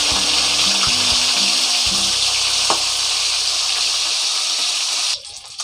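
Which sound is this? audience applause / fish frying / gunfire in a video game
fish frying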